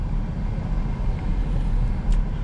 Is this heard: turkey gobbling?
no